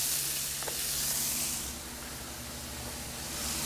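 Buttered onion bagels toast on a Blackstone griddle with a close, steady hissing sizzle that dips slightly partway through, with a faint tap near the start and no talking.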